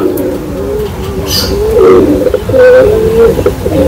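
A red-eyed high-flying pigeon coos loudly and close while being held in the hand, its throaty rolling calls repeating over a few seconds with no talk.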